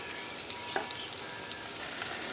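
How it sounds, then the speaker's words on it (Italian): Meatless meatballs fry in a couple of fingers of hot oil, a steady close sizzle and crackle with occasional small pops and no voices. "e metto le polpettine a friggere."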